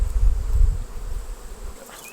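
Honey bees buzz in a dense, continuous drone around an open hive being worked by a beekeeper, close and loud, with low rumbling handling noise early on and no speech.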